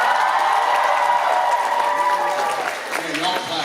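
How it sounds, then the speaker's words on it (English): Convention crowd at a Toronto Comic Con panel applauding and cheering, a sustained dense wash of clapping that holds steady, then thins slightly near the end, with voices mixed in. "Yeah, y'all clap."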